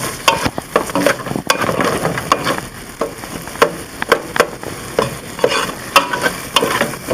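Butter sizzles and crackles in a pan as a roux base for chicken pot pie, with a wooden spoon scraping and stirring in steady, repeated strokes close by; no one speaks.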